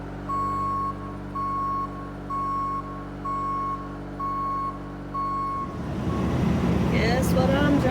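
A super sucker vacuum truck reverses at an Alaska oilfield, sounding six evenly spaced reversing beeps over a low diesel engine drone, before the engine noise swells louder at the end.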